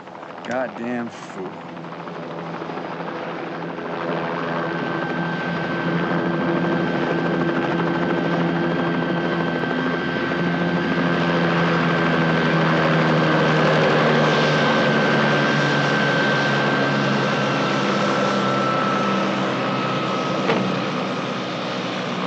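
A helicopter drones loudly and steadily overhead, its rotor thrum and engine whine sustained throughout after a brief opening disturbance.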